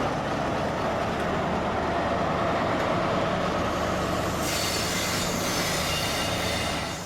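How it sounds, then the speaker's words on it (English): Cross Country HST train pulling away from the station toward overnight servicing at Neville Hill depot, a loud steady diesel rumble with rail noise, brightening and hissing in the last few seconds as it gets moving. "it's about to set off for servicing overnight at the Neville Hill depot"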